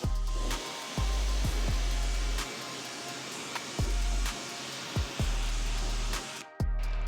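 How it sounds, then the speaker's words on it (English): A water sprayer rinses a car during washing and waxing, in loud bursts of hissing spray broken by short pauses and sharp clicks of the trigger, with no talk. "Now we're gonna rinse it down."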